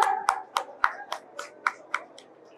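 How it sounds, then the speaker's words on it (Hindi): Claps from a small audience at a school painting competition prize announcement, about eight sharp separated hand claps in a slow uneven rhythm, close and fairly loud, with no voices. "जोरदार तालियां।"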